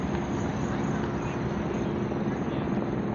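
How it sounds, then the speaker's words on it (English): A helicopter drones overhead in a steady low rotor rumble that holds constant throughout, with no other distinct sounds. "you can hear the helicopter above."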